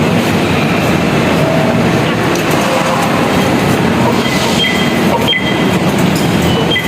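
An MRT metro train in Manila rumbles along loudly and continuously, with a dense rushing roar, rattling wheels and occasional faint squeals on the track.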